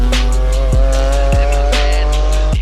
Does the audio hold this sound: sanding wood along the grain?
no